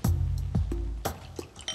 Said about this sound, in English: I'd like to pour you a glass of water.